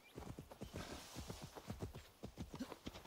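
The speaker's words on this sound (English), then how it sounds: "Now you get the horse." Horse hooves clip-clop in the video game Assassin's Creed Valhalla, a steady rhythmic series of hoofbeats at close range, fairly quiet, with no talk over them.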